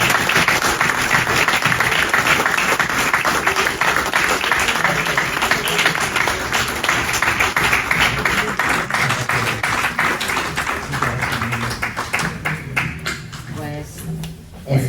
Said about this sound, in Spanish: Aplauso para Sánchez.